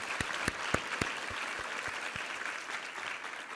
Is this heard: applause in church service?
yes